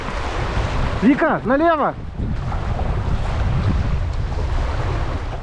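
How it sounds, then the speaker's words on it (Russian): Powerful rapids on the Koyva river rush steadily under a boat in a broad, continuous wash of water and wind, with a brief shouted call from someone aboard partway through. "Но здесь такой мощный перекат."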